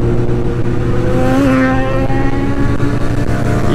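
A sport motorcycle roars past on a highway, loud and close, with a brief rising engine whine mid-pass over steady wind and traffic rumble.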